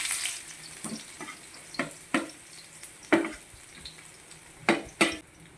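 Garlic and onion frying in hot oil for pancit, a soft continuous sizzle broken by sharp clinks and scrapes of a utensil against the pan, close and moderately loud, with no talking.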